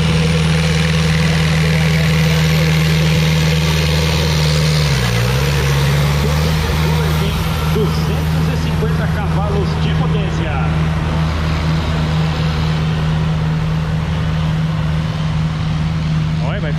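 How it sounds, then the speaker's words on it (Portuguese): Tractor engine at a tractor pull (Trekker Trek), an LS Guardião motor, running loud and steady near the microphone with a deep drone and a brief pitch dip midway, with a crowd and announcer voices in the background. "É o motor LS Guardião."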